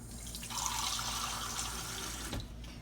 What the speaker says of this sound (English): put a little water in the bottom of this pan